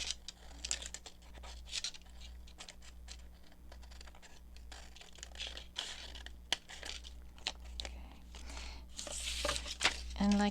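Scissors cutting out a paper envelope for an envelope ephemera holder, a run of quick, crisp snips and light paper rustling up close over a low steady hum.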